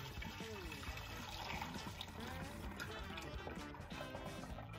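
Liquid poured through a funnel into a glass carafe or pitcher, a steady trickling, splashing stream that fills the vessel, heard close and continuous under a constant low background.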